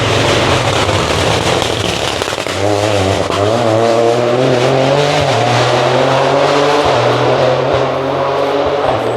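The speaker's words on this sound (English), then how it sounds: "Man, those cars sound like machine guns, don't they?" A rally car roars past at speed during the Rallye Vosges Grand Est, engine revving hard and loud up close, with gear shifts and a rough, crackling exhaust.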